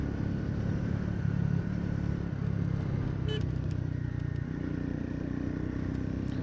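A motorcycle ridden at about 60 km/h on a scenic mountain road toward Gurudongmar, with steady engine drone and wind roar throughout, fairly even in loudness with a brief rattle midway.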